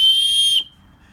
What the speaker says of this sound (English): That's the fire starter. It's got a whistle in it.